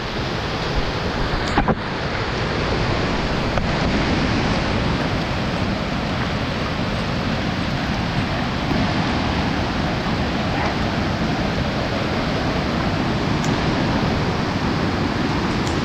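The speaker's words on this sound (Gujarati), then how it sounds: "સરસ મજાની રીતે નદીઓ ખડ ખડ ખડ ખડ ખડ વહી રહી છે" A fast river runs high after heavy monsoon rain near Junagadh and Girnar, a loud, steady rushing roar of churning water that continues unbroken throughout, with no voices.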